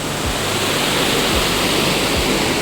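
The fast-flowing Yamuna river near Yamunotri rushes loudly and continuously, a dense close roar of churning water with no voices.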